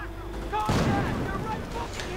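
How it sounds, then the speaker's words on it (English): Mortar rounds and gunfire in the WWII strategy game Company of Heroes, shelling a Sherman tank and a nearby building: a sharp broadband blast lands near the one-second mark, then rumbling battle noise continues steadily with faint voice-like tones underneath. "Mortar rounds hit the top of the Sherman."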